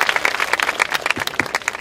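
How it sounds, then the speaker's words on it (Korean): Audience at a university visit claps in a dense, lively burst of applause, close and sustained with many hands overlapping. "여러분 큰 박수 보내주시기 바랍니다."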